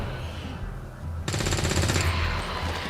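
Weapons open fire in XCOM 2: a short, loud burst of rapid automatic shots close at hand, breaking sharply out of a low ambient hum and then stopping.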